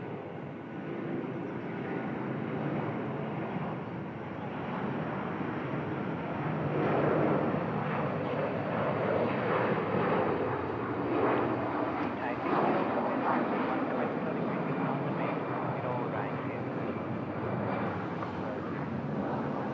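A Hong Kong Airlines Airbus A330 jet takes off at a Bangkok airport, a steady, loud, broad engine roar that swells slightly partway through and holds near, with a voice talking over it at times.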